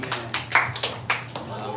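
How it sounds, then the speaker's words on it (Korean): At a church gathering, an audience gives a short burst of clapping: a handful of sharp, uneven claps close together over under two seconds, fairly quiet overall. "박수"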